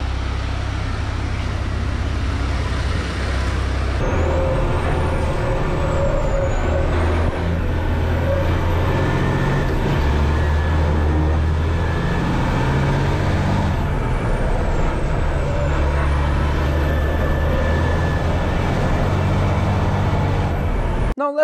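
Heavy race truck engine rated at about 1,500 horsepower and 5,000 newton meters of torque, a loud sustained roar with shifting pitch and air-brake hiss, heard close and continuous at a Nürburgring ride.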